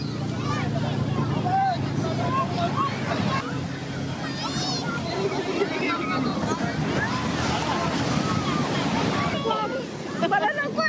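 Sea waves wash fast up a sandy beach, a continuous surging rush with wind buffeting the microphone, while people talk and call out over it throughout.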